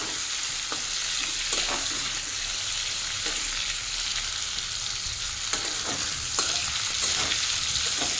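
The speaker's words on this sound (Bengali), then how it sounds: "মাঝে মধ্যেই নাড়িয়ে চাড়িয়ে দিতে হবে, তাহলে উভয় পিঠই খুব ভালো মতো ভাজা হয়ে যাবে" Prawns sizzle steadily in hot oil in a pan, a dense continuous frying hiss broken by a few light scrapes and taps as they are stirred, with no talking.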